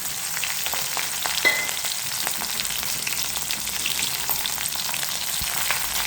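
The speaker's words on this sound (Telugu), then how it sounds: "ఎండుమిర్చి కాస్తంత వేగాక పచ్చిమిర్చిని కూడా వేసేయండి." Garlic, dried red chillies and green chillies fry in hot oil for palak pappu tempering, giving a steady, close crackling sizzle with scattered sharp pops and occasional stirring clinks throughout.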